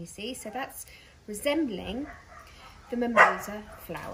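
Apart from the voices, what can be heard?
dog barking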